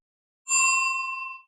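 A single bright bell ding rings out clearly and alone, then fades away over about a second.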